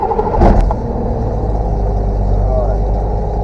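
A light aircraft's six-cylinder piston engine catches and starts with a loud burst, then settles into a steady, powerful low drone close by, with people talking over it.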